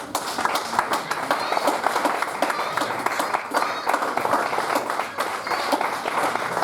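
A church congregation applauding after a Bible reading: steady, dense clapping from many hands that carries on throughout, with a voice speaking over it.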